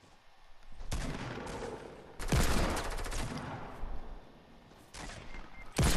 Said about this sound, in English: That was a headshot, cleanest headshot of my life.